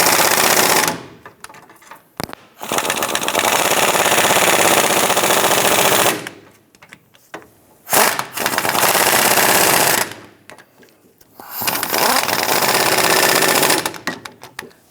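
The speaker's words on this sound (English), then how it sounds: "let's go ahead and tighten those down." A power impact tool tightens the wheel hub bolts on a Nissan Rogue during a rear wheel bearing and hub replacement, delivering four loud, rapid hammering bursts of a few seconds each, separated by short pauses.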